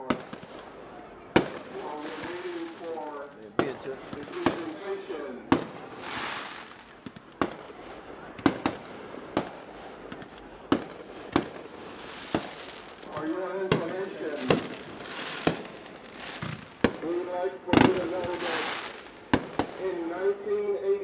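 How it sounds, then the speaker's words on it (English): Fireworks show with sharp explosive bangs going off in irregular succession, some followed by crackling trails, over a crowd and an announcer's voice at a high school football game. "Fireworks show being brought to you by Aaron Lewis and Pyromania"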